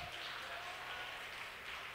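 A church congregation claps during a service, a broad continuous patter of hands at moderate level for the whole moment, a faint tone drifting beneath it.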